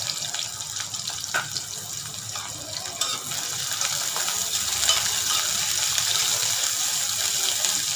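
Sliced onions frying in hot oil for a semolina (rava) chicken biryani, a steady, close crackling sizzle that grows slightly louder partway through, with no voices.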